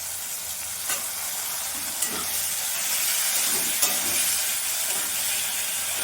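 Cumin and ginger paste frying in a pan for a Bengali chana dal bora curry, a steady bright sizzle with a few soft stirring scrapes, close and moderate in level.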